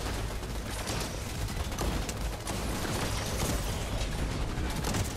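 Dense, continuous barrage of rapid laser fire from turrets in a video game, a loud unbroken wall of zaps and blasts with no pauses across the whole stretch.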